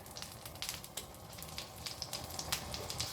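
Steak sears in butter and olive oil with a soft, crackling sizzle, with quick pops and spits scattered over a steady hiss, quiet and close, with no talking.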